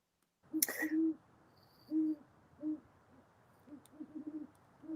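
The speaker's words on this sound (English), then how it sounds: "Oh, I heard the owl again." An owl hoots in a short series of low, evenly spaced calls, moderately near against a quiet background, with a brief sharp noise near the start.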